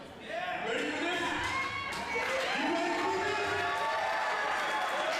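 Wrestling crowd at a live indoor show, a broad roar of cheering and shouting that swells and holds steady throughout, loud and continuous with voices mixed through the din.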